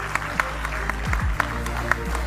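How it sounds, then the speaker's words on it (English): Audience applause in a hall at a 2023 postgraduate graduation convocation: scattered, moderately loud claps with a few sharper individual hand claps standing out over a steady low room hum. "Please give a big round of applause to yourselves."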